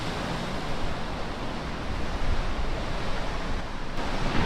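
Powerful ocean waves and surf along the coast near Storms River, a steady, dense roar of breaking water that fills the whole scene without pause and carries no voices.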